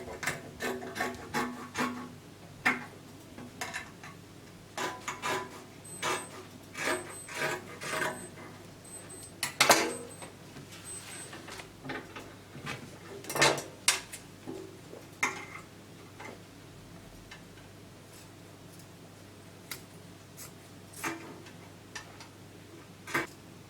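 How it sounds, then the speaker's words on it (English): Ankara fabric is being cut out around the neckline for a short dress, giving a series of crisp, irregular snips and clicks. They are fairly close but quiet, with pauses between bursts and no talk. "I will cut it out now. I'll cut the front neckline and cut the back neckline."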